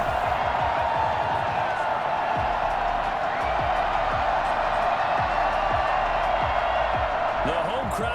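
A stadium crowd at an American football game roars after a late go-ahead field goal, a sustained loud cheer under a commentator talking, with scattered thumps in the background.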